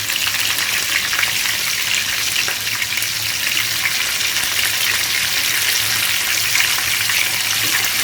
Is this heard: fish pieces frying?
yes